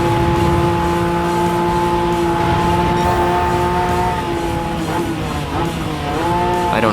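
A Suzuki Jimny off-road car is driven, its engine a loud, sustained drone with steady tonal whine that rises and falls slightly in pitch toward the end, heard close and continuous without speech.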